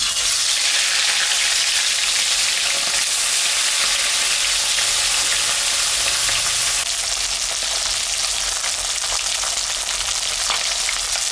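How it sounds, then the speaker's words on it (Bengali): Sarputi fish frying in hot mustard oil seasoned with salt and turmeric, a loud, dense and continuous sizzle heard close up for the whole stretch, with no talking over it. "মাছটা আমি এখন ভাজবো।"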